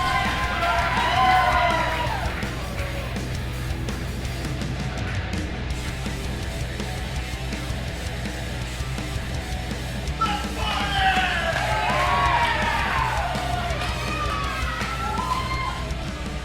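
A crowd at an independent wrestling show yells and cheers for a wrestler's entrance, with whoops and shouts rising in two louder bursts over a continuous background roar, and a commentator talks over it.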